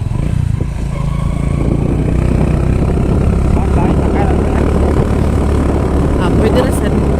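Motorcycle ride seen from the saddle on an early-morning trip to dawn Mass (Simbang Gabi): a steady, loud engine drone and wind rumble hold throughout with no break, with faint clatter over the top.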